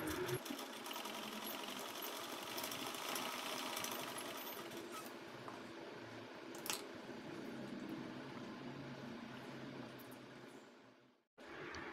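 A sewing machine stitching fabric for a handbag, running in a steady, close whir with brief changes in pace before it stops abruptly near the end.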